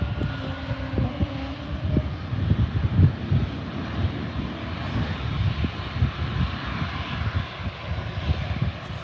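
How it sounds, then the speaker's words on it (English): An Air New Zealand airliner departing Adelaide Airport, its jet engines a broad low roar heard from a distance, mixed with gusty wind buffeting the microphone, with no talking. "Well, here goes Air New Zealand then. Bound for Auckland."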